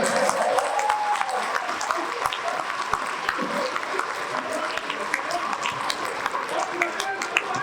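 An audience at a Hindi comedy poetry gathering in Ranchi claps continuously, a dense wash of many hands with crowd murmur mixed in, sustained throughout.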